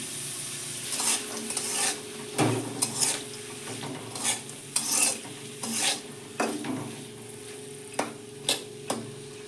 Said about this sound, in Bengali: লো গ্যাসে আমি একটু চাপা দিয়ে দিয়ে ভেজে নেব